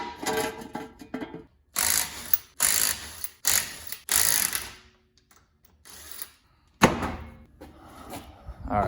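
A ratchet working on a wheel of a 2005 Honda Civic EX with a coolant leak, giving several bursts of rapid clicking separated by short pauses, close and fairly loud, with no talking.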